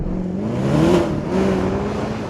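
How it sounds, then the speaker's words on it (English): A Mercedes-AMG SLS Black Series, with no turbochargers, gives a loud, close engine and exhaust roar that rises and falls in pitch like a throttle blip, sounding alone. "There are no turbos deadening the noise from the exhaust."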